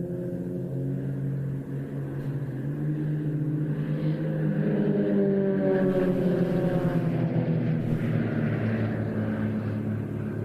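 An Extra 330 LX two-seat aerobatic aircraft performs in a flying display at the Royal International Air Tattoo, its propeller engine droning with shifting harmonic tones as it passes, moderately loud and steady.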